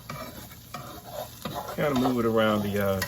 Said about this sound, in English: You hear that sizzling? That means that the bottom is cooking in really, really nice.